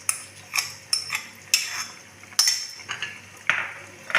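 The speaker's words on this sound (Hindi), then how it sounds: "अब इसको एक दफ़ा हम अच्छी तरह हिला लेंगे ताकि सब चीज़ें ज़रा मिक्स हो लें।" Mutton keema with pickle masala being stirred in a pot, a spoon scraping and clinking against the metal in several separate strokes, close and fairly quiet with no voices.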